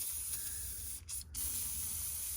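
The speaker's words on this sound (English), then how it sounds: "spray WD-40, any kind of lubricant on there" WD-40 lubricant sprayed onto the brake pedal spring of a Yamaha golf cart, a close, loud, steady aerosol hiss with two short breaks in the middle.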